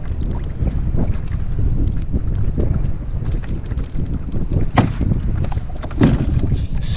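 Strong wind buffets a small fishing boat on open water during a red drum tournament, a steady low roar of gusts against the microphone with occasional knocks and bumps, no talking.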